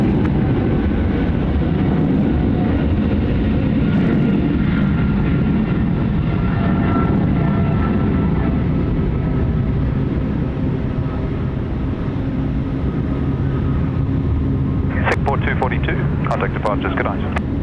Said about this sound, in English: And just over the top of that, we had the sound of the 737 MAX